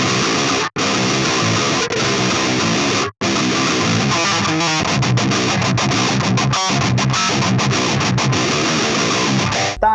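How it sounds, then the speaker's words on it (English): Heavily distorted rhythm guitar through a Line 6 Helix plays a dense, chugging deathcore-style riff with brief abrupt stops, loud and continuous for about ten seconds. "that's basically just going to give us another rhythm guitar for little sections of the song"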